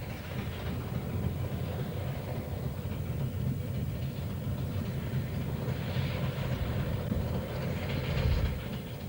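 A special train on its first run arrives at a mountain summit in cloud and rain, giving a steady, fairly loud rumble of wheels and machinery that builds slightly toward the end.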